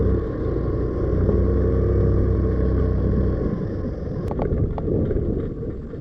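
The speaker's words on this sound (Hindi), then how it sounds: "जब हम मेस्ट्रो एज को चला रहे हैं ना, तो यहाँ से साउंड आ रही है" A Hero Maestro Edge scooter with a cracked exhaust pipe runs close by, giving a steady low engine rumble with a rough rattling buzz throughout, then a few sharp knocks near the end.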